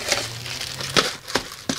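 Plastic bag crinkling as a camping cookset is packed, a short burst of rustling with a few sharper crackles, close and fairly loud, without talk.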